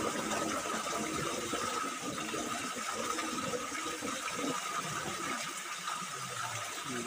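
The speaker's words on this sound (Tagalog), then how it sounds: "Dinulugayan Falls" Ginlologayan waterfall in Northern Samar rushing steadily, a dense continuous roar of falling water close by with no pauses.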